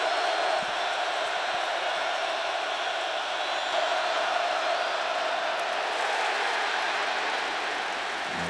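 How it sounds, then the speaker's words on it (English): A stadium crowd at a 2014 Miami at Nebraska college football game roars in a steady, dense wash of cheering that holds at an even level throughout. "Listen to this crowd roar."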